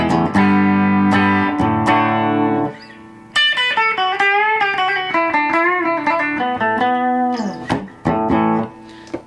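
Electric guitar on a humbucker pickup with a warm, thick tone: sustained chords ring out, then a run of bent single notes and phrases, played alone and fairly loud.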